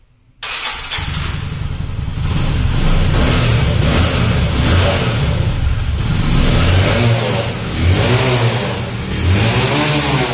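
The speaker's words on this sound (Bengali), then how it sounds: "আমি এই বাইকটি আপনাদেরকে সাউন্ড শোনাই দিচ্ছি।" A second-hand Bajaj Discover 125 motorcycle in fresh condition starts up and revs repeatedly, its loud, close engine note rising and falling throughout.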